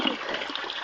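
Water poured from a dipper during bathing, a steady splashing wash of liquid that runs continuously and fairly close for the whole moment, with no pauses.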